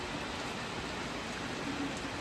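Heavy pouring rain falls outdoors in a steady, dense hiss. The downpour keeps an even, moderately loud level throughout, with no voices and no breaks.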